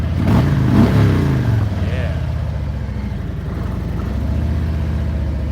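A motorcycle engine revs and rumbles steadily as a ride gets underway, with a louder burst of throttle near the start before settling into a constant drone, while a voice talks over it.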